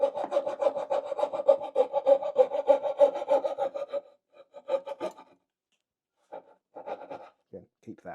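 Hand sawing dovetails in wood: rapid back-and-forth rasping strokes for about four seconds, then a few scattered short strokes after a pause.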